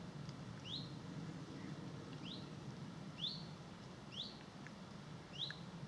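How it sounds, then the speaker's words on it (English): Short, high chirping bird calls repeat every second or so over a steady low outdoor rumble, distant and fairly faint. "There is that warbler there in the background."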